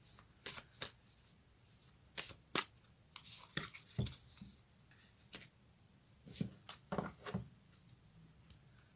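Fairy tarot cards being shuffled by hand, close and fairly quiet, in repeated quick riffling bursts with short pauses between them and no talking.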